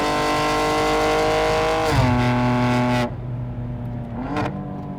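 A 711HP BMW G87 M2 Clubsport on the Nürburgring Nordschleife holds a loud, steady engine howl, drops pitch sharply around a gear change, then cuts off abruptly to a faint hum with one brief rising blip.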